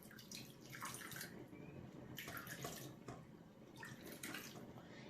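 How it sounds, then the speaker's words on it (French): Water poured into a tagine of M'tawem with meatballs, a steady close liquid rush and splash running through the whole stretch with a few surges, no talking. "là on rajoute de l'eau à notre tagine"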